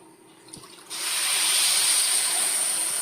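Water pours steadily into a pan of sugar after a brief clink, a continuous hissing splash that holds even to the end.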